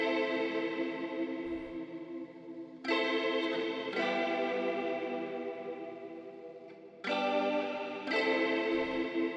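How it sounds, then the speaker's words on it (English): Electric guitar chords drenched in a dreamy, big, creamy reverb, sustained swells restruck a few times with long washy tails, loud and alone in a music production. "we just have that like dreamy, big reverb on there, creamy reverb"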